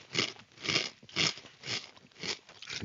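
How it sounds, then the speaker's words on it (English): Someone chews a crunchy snack close up, with about five rhythmic, evenly spaced bites and crunches and no talking. "It's very crunchy though."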